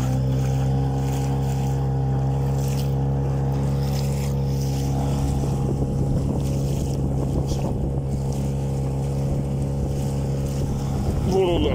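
A motorboat engine with a homemade propeller roars steadily at high revs, loud and close, with wind buffeting the microphone and water rushing alongside.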